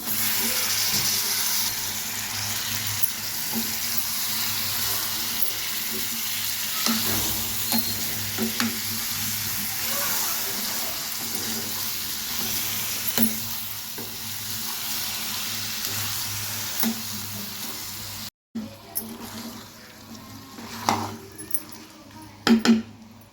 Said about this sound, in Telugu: ఇందులోకి చికెన్ వేసేస్తున్నాను.